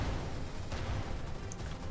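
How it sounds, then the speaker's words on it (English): Explosions in the World War 2 shooter Raid: World War 2, a continuous heavy low rumble of blasts and distant booms, dense and unbroken, with no talk. "they're trying to raise the sense of tension with all of the explosions"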